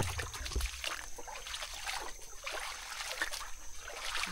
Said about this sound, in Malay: Dekat sini banyak air. Baik ke sungai lah. Tapi sebenarnya sungai kecil.